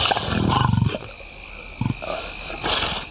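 Lion roaring in an African forest, a couple of deep guttural growling bursts separated by quiet gaps, fairly close and alone.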